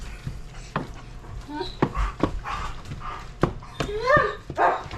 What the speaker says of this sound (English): She's barking at the rabbits.